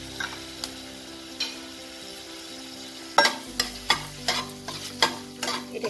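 Chopped ginger, green chilli and garlic sauté in hot white oil, a quiet sizzle at first, then a burst of louder frying with a series of rhythmic stirring scrapes close by.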